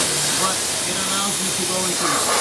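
A MEKOH short pressure washer gun sprays water with a constant loud, broad hiss. Underneath, a voice speaks intermittently.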